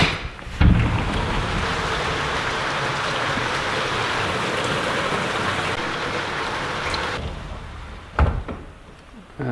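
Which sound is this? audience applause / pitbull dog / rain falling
rain falling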